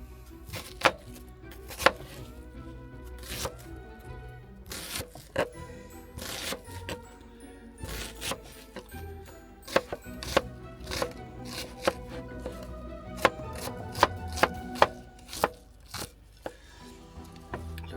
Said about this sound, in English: we'll chop that in half, and then on the first half we'll just again, doesn't necessarily have to be chopped fine